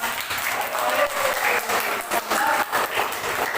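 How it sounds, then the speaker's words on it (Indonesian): A classroom group claps together, producing dense, steady applause that holds at an even level for a few seconds, with some voices mixed in. "marilah kita berikan aplaus semuanya"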